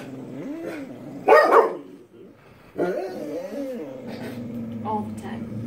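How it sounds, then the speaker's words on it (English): A dog barks in a home, with a loud burst of barks and some growling and whimpering mixed with a person talking nearby. "I was interrupted by my crazy dog"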